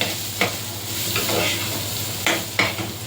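Rice stirred and fried in a pot, seasoned with salt and black pepper, makes a steady close sizzle broken by several sharp scraping stirs of the spoon against the pot, with no talking.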